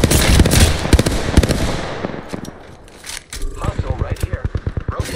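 Automatic weapon fire in the Apex Legends battle royale game: a heavy burst of shots with a fading tail, a short lull, then a rhythmic string of single loud shots, all close and sharp.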